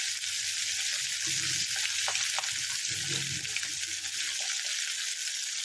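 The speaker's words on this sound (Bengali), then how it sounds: "ভালো করে এটা ভেজে নেবো, উল্টোবো না, আগে একদিকটা ভাজা হয় তারপর উল্টোবো।" A fish head sizzles in hot oil in a pan, frying on one side with a steady, dense crackling hiss, with faint clinks and light bubbling under the constant sizzle.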